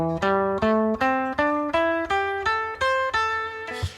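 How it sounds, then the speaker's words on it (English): Rock and roll guitar plays a pentatonic scale, ten evenly spaced single notes climbing in steady rhythm, each plucked note ringing briefly before the next, close and clear with no talk. "pentatonic scale, which sounds like this."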